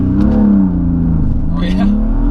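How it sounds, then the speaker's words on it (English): A car launches from a stop in traffic, its engine revving hard in a steady loud drone that rises and falls, with a voice speaking over it partway through. "I'm going to do a little launch to see how that goes"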